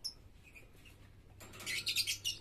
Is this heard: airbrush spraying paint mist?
no